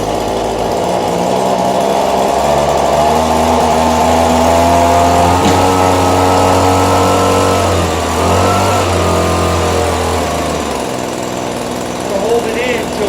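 An Echo PB-2520 25.4 cc gas two-stroke handheld leaf blower idles close by as it warms up, giving a steady buzzing drone with a slight pitch wobble near the end.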